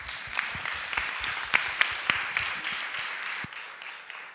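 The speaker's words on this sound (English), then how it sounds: "give yourself a round of applause" An audience at a talk on community sexual violence prevention claps for a few seconds, a moderately faint room-wide patter with some sharper nearby claps, fading out at the end.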